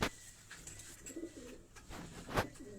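A high-flying pigeon gives a few soft, low coos from fairly close, with faint rustling and a sharp click near the end. The whole passage is quiet.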